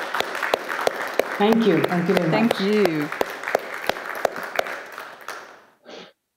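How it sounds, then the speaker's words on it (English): An audience at an AI conference panel in Berlin gives a round of applause: distinct, rhythmic claps for about five seconds, while a nearby voice says thanks over them. The clapping then stops abruptly, followed by a brief faint sound. "A big round of applause to you"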